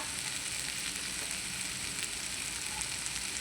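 Steady sizzle of a tamarind tempering frying in oil for green chilli and tomato chutney, with onions and asafoetida in the pan, a continuous even crackle with faint stirring and no voices.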